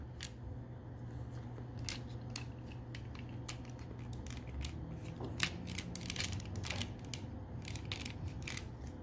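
Plastic parts of a Transformers Masterpiece MP-53 Skids figure, a Honda City Turbo, click and snap together in a quick irregular series of small, close, fairly quiet ticks over faint room noise.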